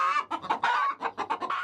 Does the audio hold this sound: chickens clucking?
yes